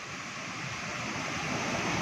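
Water rushes out of an old water-powered flour mill (pan chaki) in Samahni, a steady, loud broadband roar of flowing and falling water that fills the whole stretch without a break.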